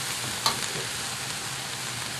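Wedge-cut onions hit a hot wok for a Vietnamese wok-tossed eel dish, giving a steady, dense close-up sizzle with a small clink near the start and no voices.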